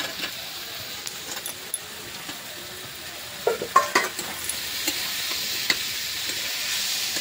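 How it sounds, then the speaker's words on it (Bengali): Fried chicken meat goes into a pan with garlic and sizzles quietly, a soft steady hiss broken by scraping and clinking as a utensil stirs it, most busily in the middle, with no talking. "এখন আমি নাড়াচাড়া দিয়ে মাংসটা দিয়ে দেব।"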